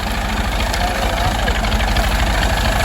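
A tractor engine idles nearby with a loud, steady low throb that holds evenly throughout.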